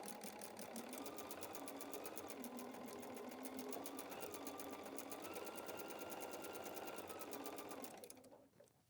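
A sewing machine stitching a seam on a fabric wall hanging, a fast, even mechanical needle rattle running steadily up close for about eight seconds before stopping abruptly.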